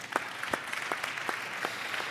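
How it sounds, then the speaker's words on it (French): An audience at an awards event in Monaco claps for a recipient on stage, a fairly soft, brief patter of applause with a few distinct claps popping out. "Donc vous pouvez applaudir l'ange."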